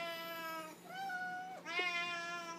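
A cat meowing for treats gives three drawn-out, insistent meows in close succession, loud and near, with no talking over them.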